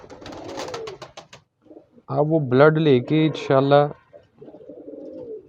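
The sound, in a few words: pigeons cooing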